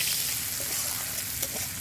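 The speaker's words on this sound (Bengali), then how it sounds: "দিয়ে দিচ্ছি ফার্স্টে পেঁয়াজ কুচি।" Finely chopped onion fries in oil seasoned with whole cumin and bay leaf, for a prawn curry. A close, loud, continuous sizzle fills the whole stretch, with a few soft crackles on top.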